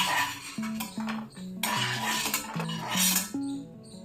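Ghee-fried cashews and almonds are scooped from a pan onto a plate, with a spoon clinking and scraping against metal in quick ringing taps and rattles, close and fairly soft.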